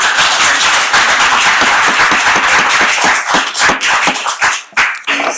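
Applause at a St. Louis County Council meeting: brisk, close clapping from a small group in a meeting room, strong at first and then thinning into scattered claps.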